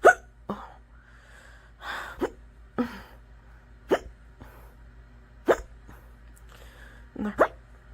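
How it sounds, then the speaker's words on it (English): Sharp, abrupt hiccups repeat every second or so, close and fairly loud, each a brief gulping catch of breath in an otherwise quiet room. "It's decided to record these hiccups."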